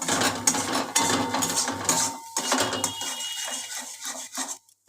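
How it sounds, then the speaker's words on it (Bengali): A spoon scrapes and clatters steadily as bottle gourd peel paste is stirred in a pan to dry it out; the close, busy scraping thins toward the end and stops. "দেখো, নাড়ছি এখনো, আরও শুকাবে, একদম শুকনো শুকনো হবে"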